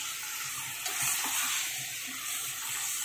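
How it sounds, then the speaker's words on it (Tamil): Country chicken sautéing with freshly ground masala in a pan over low flame, a steady close sizzle with soft irregular stirring scrapes underneath, continuous for the whole stretch with no speech. "இப்போ அரைச்சி வச்ச மசாலா சேர்த்துடலாம். அதையும் நல்லா ரெண்டு நிமிஷம் வதக்கணும்."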